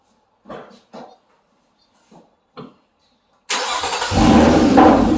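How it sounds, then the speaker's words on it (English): After a few short clicks and bumps, a 2008 Nissan Altima engine cranks and catches, settling into a loud, steady idle. "let's start the car"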